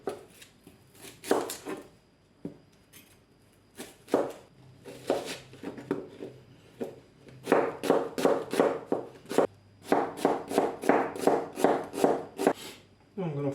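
A knife chops onions in uneven bursts of quick, close taps on a board, with short pauses between runs that grow denser and faster toward the end.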